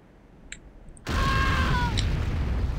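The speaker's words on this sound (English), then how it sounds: "Then move to a safe distance before detonating with your secondary fire" A C4 charge detonates in the video game Renegade: a small click, then a sudden loud broadband blast that swells into a sustained rumbling roar with fading high tones, alone with no talking.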